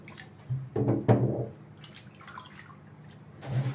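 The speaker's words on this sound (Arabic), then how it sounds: "لابد اشطفها برضو كمان شطفه كده" Cut okra is rinsed under running water in a home kitchen, giving short bursts of splashing and dripping with brief pauses between them, close and fairly quiet.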